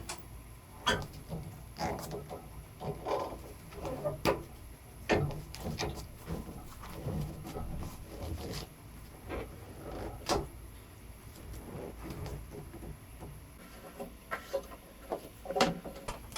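On an MTD snowblower, the auger belt lever is pulled to release the belt, producing scattered close clicks, ticks and hollow plastic-and-metal clunks spread irregularly over the span.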